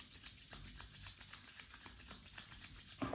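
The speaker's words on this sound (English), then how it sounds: "Rub your hands." Two hands rub briskly together in a quick, steady back-and-forth of dry, raspy strokes, close and clear with no talk, ending in a sharper scuff.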